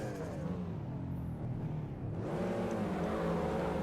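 Car engine in the Street Racing Syndicate video game at the start of a race, a steady loud drone that dips and then climbs in pitch as the car revs and accelerates away.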